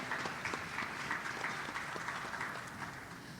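A congregation at a Kabbalat Shabbat service applauds the musicians, giving a short burst of dense, steady hand clapping from a fairly quiet crowd.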